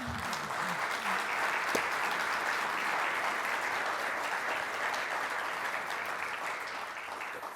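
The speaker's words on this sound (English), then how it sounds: "let's give them all, please, a round of applause." A large crowd applauds steadily at an AASA president installation, the dense clapping holding strong throughout with no one speaking over it.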